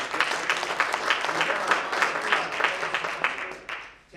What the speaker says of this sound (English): can we give Rincon a round of applause?